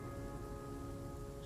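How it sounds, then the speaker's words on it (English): Steady rain pours in The Flame in the Flood, a constant dense hiss of drops falling over a quiet game ambience, alone and unbroken throughout. "considering it's constantly raining now"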